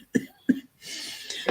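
A woman gives two sharp, close coughs in quick succession, then a short breathy sound follows.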